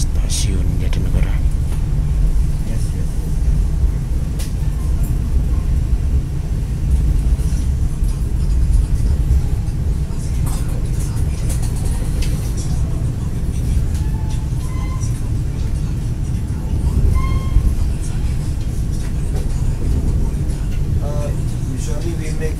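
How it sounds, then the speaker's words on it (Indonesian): The Argo Muria intercity train departing Jatinegara station, giving a steady, loud low rumble of rolling wagons that persists throughout, with faint higher squeals and clanks scattered over it and people talking. "Argo Muria diberangkatkan kembali dari stasiun Jatinegara."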